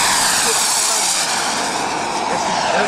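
A loud, continuous roaring whine of an ultralight aircraft's jet engine running up close, a dense rushing hiss that holds steady throughout.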